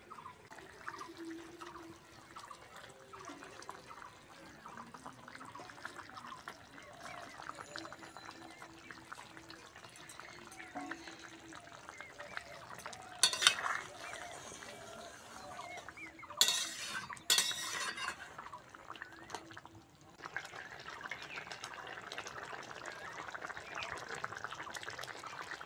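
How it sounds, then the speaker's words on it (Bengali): Fried bata fish added to a pan of sour tomato curry and stirred, quiet scraping and clinking of a utensil against the pan with a few louder bursts and a faint liquid bubbling, no talking. "এবার ভেজে রাখা বাটা মাছ দিয়ে দেবো।"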